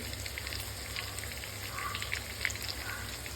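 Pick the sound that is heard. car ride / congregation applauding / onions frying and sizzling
onions frying and sizzling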